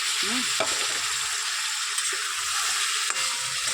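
Tomato tipped into a hot pan while cooking a prawn curry, with steady broadband frying sizzle and a few scraping stir strokes, close and continuous with no voices.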